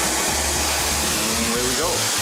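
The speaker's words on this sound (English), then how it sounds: "This is where we use the torch." An oxy-fuel torch flame heating a pipe roars in a loud, steady broadband hiss at close range, with faint voices underneath.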